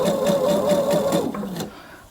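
A sewing machine stitches in the ditch on a dress or top, running at a steady loud hum with rhythmic needle thumps before slowing and stopping near the end.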